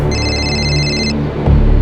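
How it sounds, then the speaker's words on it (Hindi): A phone rings with a steady electronic ringtone, a bright repeating tone that runs for about a second before it stops, with a low hum and murmur under it. "मेरे पापा का मुझे फोन आया"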